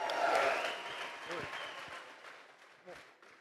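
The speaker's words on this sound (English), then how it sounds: "Ladies and gentlemen, a round of applause for Yoshi Kenai, your winner tonight" Applause from an arm wrestling event audience, strongest at the start then thinning out and fading, with voices talking over it.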